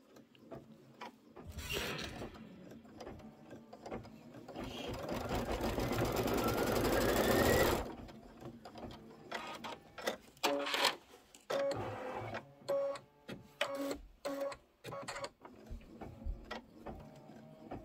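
An embroidery machine stitches the trim line on a seasonal table runner, a rapid mechanical whir with ticking stitch pulses, a sustained run mid-clip followed by shorter stop-start bursts and clicks, no talking.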